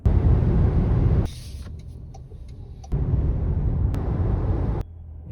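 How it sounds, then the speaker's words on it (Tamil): Busy road traffic with cars and buses passing close by, a steady broadband engine and tyre roar that drops and swells as vehicles come and go, with a brief air-brake hiss. "இங்கே வந்து பார்த்தா சரியான டிராஃபிக்."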